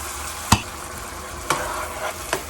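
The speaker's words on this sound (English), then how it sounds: "Mix everything together." Chicken stirred with salsa in a frying pan over medium heat, three distinct scraping strokes of the spoon over a soft continuous sizzle, close by with no talk.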